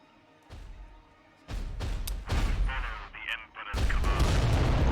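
Heavy booming weapon fire from titan war machines in the video game Adeptus Titanicus: Dominus, several loud thudding blasts rolling in succession with no talk over them.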